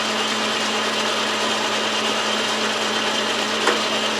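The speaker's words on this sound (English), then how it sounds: "Yep, so next is the parting tool." A lathe whirs steadily while a parting tool cuts, producing a continuous grinding, scraping noise at close range with no talking.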